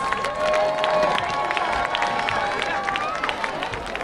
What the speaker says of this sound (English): Let's give one more round of applause to our senior cheerleaders.